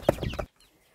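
Chicks from an older brood cheep and cluck in a short, close burst of several calls while being carried, then the sound stops and near silence follows.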